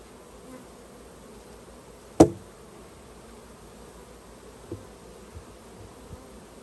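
Honey bees hum steadily inside a swarm trap box, a soft continuous buzz close by, broken by one sharp knock and a few fainter taps.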